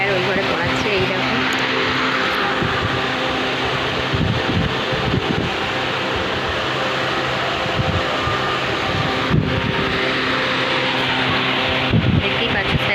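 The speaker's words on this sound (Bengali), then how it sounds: "এখন আমি ফ্যান চালিয়ে বসে আছি" An electric fan runs in a room, a steady close whooshing hum throughout while a person talks quietly over it.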